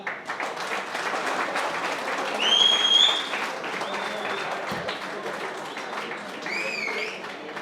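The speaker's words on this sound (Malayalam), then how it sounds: "കയ്യടി പോരാ" Audience applause at a pigeon racing prize distribution: a crowd claps steadily for several seconds, swelling briefly in the middle, fairly near, with a few whistles or squeaks mixed in.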